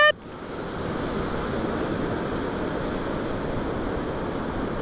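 Ocean surf surges steadily onto the beach at Kalaloch on the Pacific coast, a continuous, loud wash of breaking waves with a faint wind rush and no voices.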